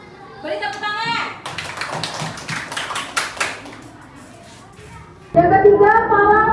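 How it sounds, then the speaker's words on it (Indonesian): Elementary school children in an Indonesian classroom clap their hands in a quick burst of rhythmic claps, with a teacher talking before and children's voices after. "Beri tepuk tangan."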